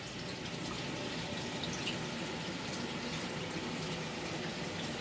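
Water runs steadily through a reef aquarium system with several linked tanks and a mixing barrel, a constant broadband rush and trickle with no break in level.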